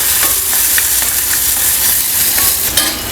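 Finely chopped small onion fries loudly in a hot pan, a dense continuous sizzle with occasional stirring scrapes, close and unbroken by any voices.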